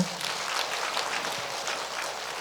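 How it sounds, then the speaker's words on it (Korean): Congregation at a Catholic healing retreat applauding together, a steady broadband wash of many clapping hands held at an even level throughout, with no voices over it. "그 하느님께 감사의 큰 박수 올려드릴까요?"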